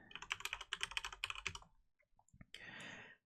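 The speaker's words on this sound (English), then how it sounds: "don't like listen to me click clack on the keys." Rapid clattering of computer keyboard keys, a dense run of close, crisp keystrokes for about a second and a half, then a few scattered taps and a short burst of hiss.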